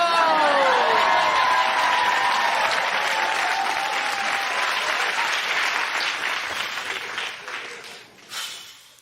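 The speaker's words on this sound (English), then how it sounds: "the crowd goes wild" Loud crowd cheering and applauding after a gold-medal win, a dense roar of clapping and voices that holds strong, then fades out over the last couple of seconds.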